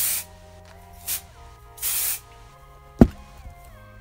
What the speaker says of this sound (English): I spray upward